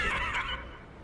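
A horse in the video game The Crew Motorfest gives a short, breathy whinny that trails off within a second, fairly close and heard on its own.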